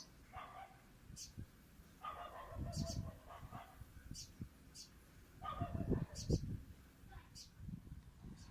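A female dog barks in short bursts of several yips at a time, two clusters a few seconds apart, moderately close in a garden setting amid faint background noise and a few higher calls.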